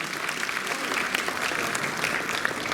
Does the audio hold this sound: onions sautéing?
no